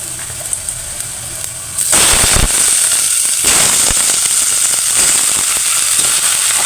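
Chicken frying with ginger in a home kitchen, with a loud burst of crackling sizzle that swells suddenly after a quieter start and keeps popping densely up close.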